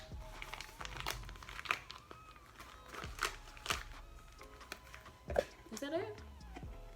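Small zippered pouch for tennis chains handled close up, with crinkling plastic, scattered rustles and a zip pulled open in short bursts, faint and intermittent.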